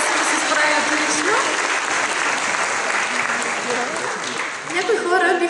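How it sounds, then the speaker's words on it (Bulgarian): Sustained audience applause at a demonstration of the ASIMO running robot, a dense steady wash of clapping filling the whole stretch with slight swells, with some overlapping voices and cheers mixed in. "Моля за вашите аплодисменти."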